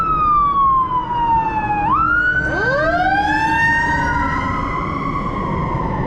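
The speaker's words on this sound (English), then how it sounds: "we got fire trucks already out here" A fire truck siren wails on a street in South Los Angeles, loud and close, its pitch sweeping down and then climbing back up through a steady rising and falling cycle over road noise.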